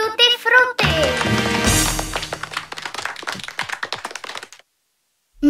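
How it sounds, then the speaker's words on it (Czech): Clapping for the valley babies in a children's cartoon, a busy patter of many hands that rises after a voice, then thins into scattered claps before falling silent. "Potlesk pro miminka údolí."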